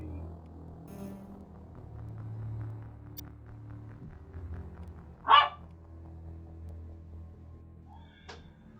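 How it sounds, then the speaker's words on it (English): A beagle lets out a single sharp, fairly loud bark midway through, over steady background music from a game playing indoors. "That was the beagle, which is unusual. She hardly ever barks."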